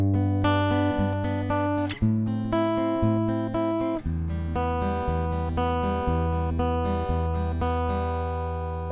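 A guitar plays a chord progression, with ringing strummed chords changing every couple of seconds in a steady pattern and sustained low bass notes, with no voices.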